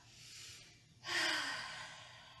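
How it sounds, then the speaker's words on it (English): A person breathes in audibly, then lets out a big, breathy exhale through the mouth, close and soft like a loud sigh, with a faint low hum underneath and no talking. "Go ahead and take a big inhale breath and a big exhale through the mouth."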